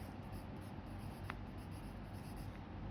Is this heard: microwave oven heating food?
no